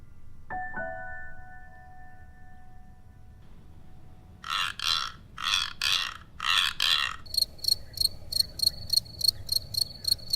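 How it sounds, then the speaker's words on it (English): Crickets chirping nearby in loud, evenly spaced pulsed bursts, first a slower group of broad trills and then a faster run of sharp, regular chirps, after a brief tonal ring at the start. "When crickets and katydids chirp, they're scraping the file on one wing against a hard edge of the other wing."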